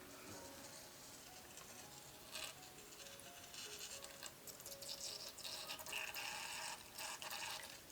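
Acrylic paint is poured into a cup for a dirty dutch pour, giving a continuous, gentle trickling and splashing that grows slightly fuller toward the end, close by and with no talking.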